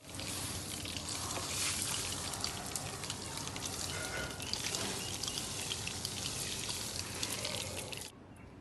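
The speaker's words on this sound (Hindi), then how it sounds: "अब इसको बस शावर से पानी दे देंगे" A shower head sprinkles water onto the soil of planted guava seeds, giving a continuous soft hiss and patter that stops abruptly near the end.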